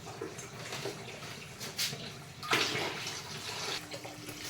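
Hot water is released from a distilling pot and poured into another pot in a farmhouse kitchen while making eucalyptus hydrosol; a steady splashing pour rises and falls with a couple of louder gushes, close by and without voices.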